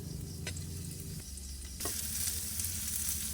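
Garlic browning in a frying pan gives a steady close sizzle with occasional stirring scrapes, and the frying grows louder and brighter partway through.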